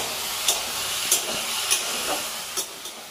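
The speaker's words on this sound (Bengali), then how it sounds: "এদিকে ভিন্ডিগুলো প্রায় 5-7 মিনিট সময় নিয়ে ভেজে নিয়েছি" Okra, fried about five to seven minutes until lightly browned, sizzles in a pan with a steady close hiss, broken by about five regular scraping stirs and no voices.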